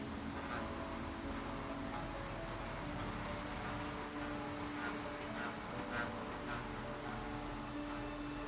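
Electric clippers shaving the coat of a Giant Schnauzer during grooming, a steady close buzzing hum running without a break and with slight rubbing variations as the blades move through the hair.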